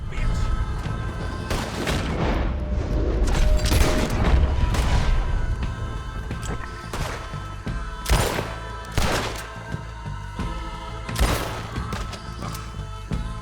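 Gunfire in Red Dead Redemption 2 during a shootout, with repeated sharp shots and heavy booms arriving in irregular bursts over a rumbling low backdrop, some close and loud, others more distant.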